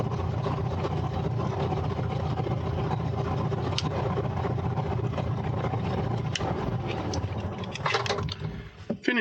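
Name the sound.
aircraft engines running before shutdown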